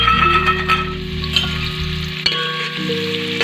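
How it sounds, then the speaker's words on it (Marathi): Onion sizzles in hot oil in a pot for a mutton curry, a continuous close frying hiss with a few sharp clicks and clatters from the vessel, no talking. "आता इथं तेल तापलेलं आहे आपलं त्यामध्ये आता आपण कांदा परतण्यासाठी टाकून घेऊ"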